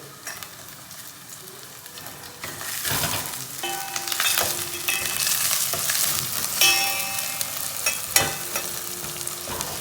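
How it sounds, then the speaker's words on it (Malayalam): Ginger, garlic and green chillies fry with fenugreek seeds in hot oil while beef pickle is made, giving a steady close sizzle with metallic clangs and scrapes from a spoon against the pan and no talking. "ഉലുവ പൊട്ടി വരുമ്പോൾ ഇഞ്ചി ഇഞ്ചി ഇട്ടു വെളുത്തുള്ളി ഇട്ടു പച്ചമുളക് ഇട്ടു"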